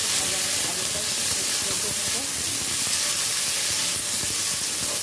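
Potatoes go into plenty of hot oil already flavored with garlic, setting off a loud, steady hiss and sizzle that fills the whole stretch with little variation.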